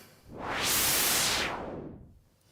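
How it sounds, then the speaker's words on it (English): Hiss of white noise from a modular synth noise module swelling up from quiet to a broad, bright rush, holding briefly, then dimming back down, with no voices over it. "we've also got some noise, which, if we turn this up, we will see is noise"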